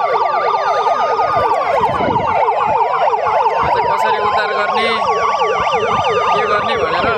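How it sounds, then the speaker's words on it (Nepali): Several ambulance sirens wail together during an accident rescue demonstration, their overlapping rising and falling tones loud and continuous, with faint traffic rumbling underneath. "यहाँ चाहिँ पुरा एम्बुलेन्सहरू सबै एकसाथ आइरहेको छन्"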